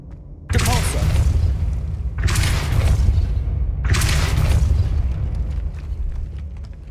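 Depulso spell impacts land in Hogwarts Legacy, three loud booming bursts spaced about a second and a half apart, each decaying into a rumbling tail.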